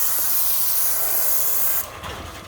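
Steady loud spray-gun hiss close by as paint goes onto a 1996 Cadillac Fleetwood lowrider, continuous for about two seconds before the spray cuts back to a softer hiss.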